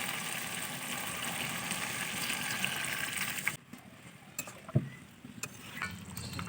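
Water pours into mutton curry cooking in a pan, a steady rushing gush for a few seconds, then the flow stops and quieter sizzling and bubbling with small clicks remains, close and alone.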